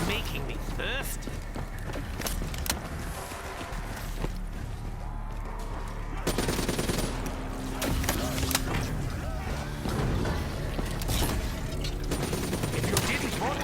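Gunfire from a zombie-shooting round in Black Ops 3 Zombies, with repeated shots crackling over a busy game mix, and a voice talking through it.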